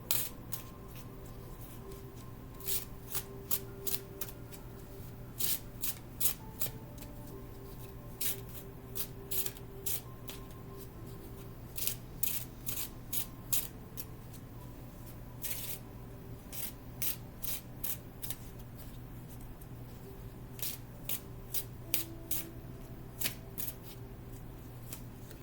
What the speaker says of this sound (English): I just can't help but shuffle whenever I pick these things up